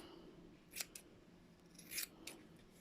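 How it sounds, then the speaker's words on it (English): Scissors snipping a Doodle-type dog's fringe at home, a few quiet crisp snips in two brief clusters over a low steady background hiss. "Sometimes it's easier with bigger scissors."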